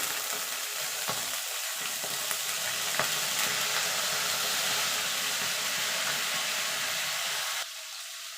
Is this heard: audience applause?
no